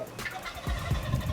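A wild turkey gobbler answers from the woods with a rapid gobbling burst, rattling and fairly loud, cutting through the outdoor background with no talking.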